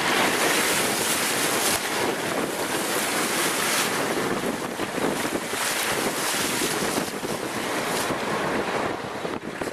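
Floodwater rushes across a road that vehicles must cross, a loud, steady broadband roar of flowing water mixed with wind noise that continues throughout.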